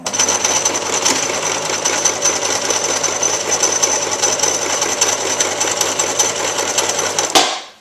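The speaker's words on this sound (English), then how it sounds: "we're going to sew just a running stitch up until the first line, which is the 5-inch mark" A sewing machine runs a steady running stitch on a drawstring bag, a loud, even rapid whir and needle chatter lasting about seven seconds before stopping abruptly.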